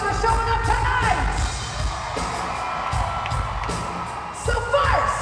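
A large concert crowd in Peoria, Illinois, cheers, whoops and yells continuously, with bursts swelling near the start and end.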